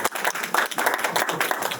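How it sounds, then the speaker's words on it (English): Brief burst of audience clapping at a conversation event with filmmaker Amos Gitai, a short scattered round of applause lasting under two seconds. "Clap hand to Joao"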